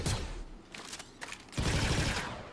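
Gunfire from a gun in a video game: bursts of rapid shots with brief gaps between them, fairly close and moderately loud, with no talking.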